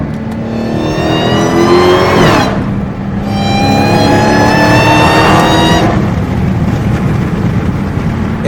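Dodge Hellcat V8 fitted with a new exhaust, revving hard and close with a loud rising howl, a brief drop, then a second climbing surge that settles into a sustained high roar.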